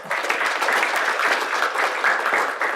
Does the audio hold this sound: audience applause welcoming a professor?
yes